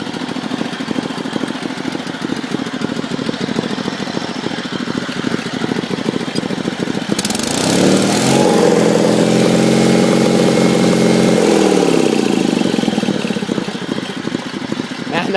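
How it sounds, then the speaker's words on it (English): A 1974 Sears Suburban SS16 garden tractor engine runs close and loud with a steady idle that revs up midway, holds for several seconds, then drops back to idle. "That motor runs nice and clean."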